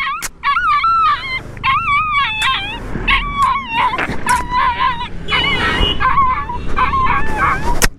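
An injured street dog hit by a vehicle whimpers and howls close by, in repeated high wavering cries with short yelps between them, over roadside noise and faint voices.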